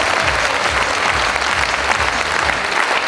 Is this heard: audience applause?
yes